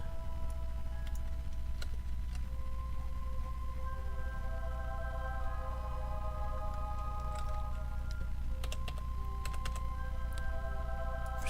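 Keys clatter in steady irregular bursts on a computer keyboard during a Kerbal Space Program session, set against continuous game music and hum, fairly close and moderately loud.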